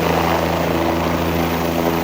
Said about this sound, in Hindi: लो भाई हमारा हेलीकॉप्टर हो चुका है स्टार्ट।